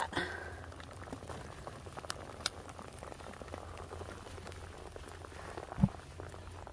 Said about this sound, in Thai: ฝนพีบา